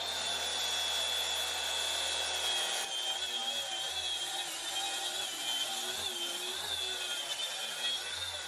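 A power saw cuts ponderosa pine trim pieces with a steady, continuous whine and rasp, quiet and even throughout with no talking.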